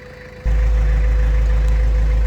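A tractor engine starts up and idles steadily in a farm field where potatoes are planted, a loud, constant low rumble with a mid-pitched drone that holds without a break after a short quiet opening.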